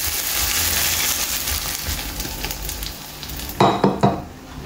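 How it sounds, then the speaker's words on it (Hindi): Beaten eggs for egg bhurji hit a hot pan with a broad sizzling hiss that gradually eases, followed near the end by a few sharp utensil knocks against the pan. "तर आता हे हिंगा रेडी हा, हितून घालून सोडटा हे एग."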